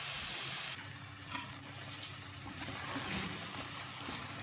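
Chopped tomatoes sizzle and fry steadily in a hot pan as they cook down toward a mash, a continuous close hiss with occasional soft stirring, no voices.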